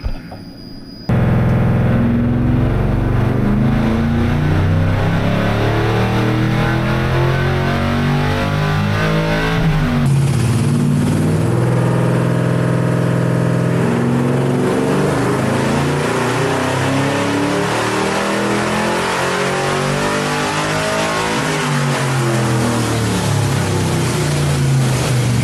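A Chevrolet C10 engine with Holley Terminator X tuning revs hard on a dyno, loud and close, its pitch repeatedly climbing and dropping through long pulls, with no talk.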